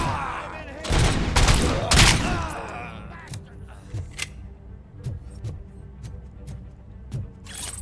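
Bursts of rapid gunfire from the RoboCop video game, loud and clustered at first, then scattered single shots popping at irregular intervals over a low background rumble.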